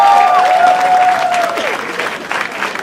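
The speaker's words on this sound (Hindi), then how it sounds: "जोरदार तालियां हो जाए।" An audience at a live show breaks into loud applause and cheering, with a sustained tonal voice or music line running over the clapping at first, then fading slightly.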